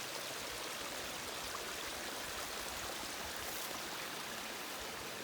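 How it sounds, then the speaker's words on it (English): A small mountain stream in the Great Smoky Mountains flows steadily beside a hiking trail, a continuous close rushing and trickling wash of water with no voices. "We found us a little stream here."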